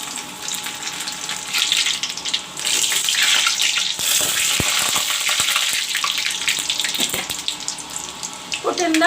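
Chopped garlic dropped into hot oil, a bright continuous sizzle and crackle up close with brief pops and clatters partway through and a faint voice at the end.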